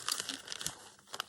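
Tracing paper crinkles and crumples over an oblong doily during junk-journal tag making, a dense run of close, papery crackles with a few sharper crunches near the end.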